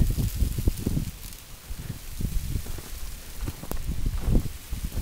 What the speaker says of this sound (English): if the wind keeps gusting like this